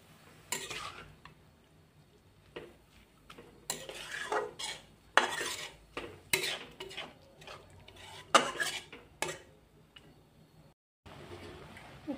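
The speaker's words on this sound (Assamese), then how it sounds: "এতিয়া গাখীৰে আৰু গাজৰে একেলগত মিক্স কৰি দিম।" Milk and carrots for gajar halwa being stirred together in a pan, with bursts of spoon scraping and clinking between short pauses and a quiet low sizzle underneath, no voices.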